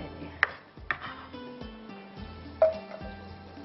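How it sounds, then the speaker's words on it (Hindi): Sharp knife chops on a board while preparing ingredients for tomato chicken soup, three or four distinct isolated knocks spaced irregularly over a soft low hum. "थोड़ा सा इसको मैं चॉप कर लेती हूँ"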